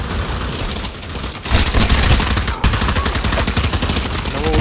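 Rapid machine gun fire rattles through a first-person shooter game in VR, a dense, loud stream of automatic bursts that grows heavier partway through.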